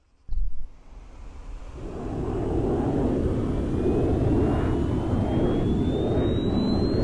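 A fighter jet engine in the Arma 3 video game spools up after a sharp click, building into a loud, steady roaring rush with a faint rising whine that continues to the end.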